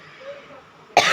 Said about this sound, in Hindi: बोला था ना खांसी शुरू हो जाएगी